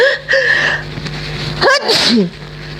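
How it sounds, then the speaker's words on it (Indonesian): One loud, close sneeze bursts out sharply, with a brief intake of breath before it and quiet voice sounds around it. "Bersin."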